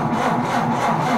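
Diesel tractor engine in a survival roleplay video game, cranking and failing to start: a steady, mid-pitched mechanical grinding that churns continuously without catching, close and loud, with no talk over it.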